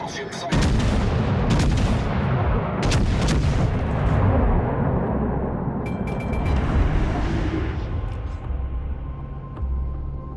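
Naval artillery fire from battleships in the World of Warships video game: repeated heavy booming shots and rumbling blasts, loud and close, with cracking reports scattered over a continuous low roar.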